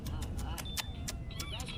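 A pet cat carried in a backpack meows in short, repeated cries, fairly close, over steady low rumble of outdoor or traffic noise and some nearby voices.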